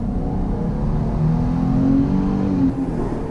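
A newer V6 car with about 20,000 miles accelerates hard from inside the cabin, its engine note climbing steadily in pitch over a constant road roar, then easing off near the end.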